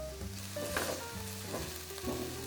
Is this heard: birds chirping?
no